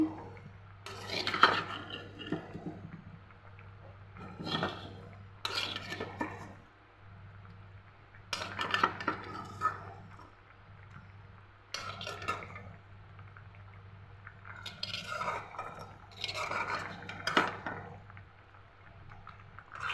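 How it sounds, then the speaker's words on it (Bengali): Fried taki fish tipped into a pot of boiled arum corms and stirred, intermittent scraping and clinking of a utensil against the pot in short bursts separated by quiet gaps, close by with no talk. "এখন আমি এর মধ্যে ভেজে রাখা টাকি মাছ দিয়ে দিব।"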